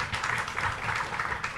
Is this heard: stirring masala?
no